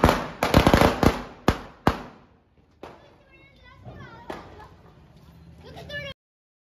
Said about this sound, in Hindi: इतने मम्मी और आंटी जी फोड़ रहे थे पटाखे